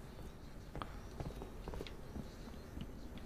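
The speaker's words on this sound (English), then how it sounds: "I hear some footsteps." Faint, quick footsteps patter in an irregular rhythm in Halo 3, soft and somewhat distant beneath a low background.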